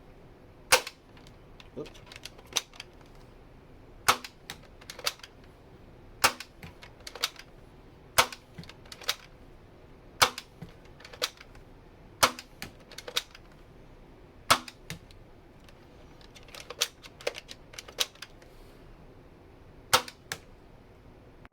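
A Nerf Hammerstorm blaster fires Dart Zone waffle-head darts from 25 feet, a series of sharp, snappy cracks at irregular intervals, each a crisp pop with a brief rattle, fairly close; a voice briefly speaks once.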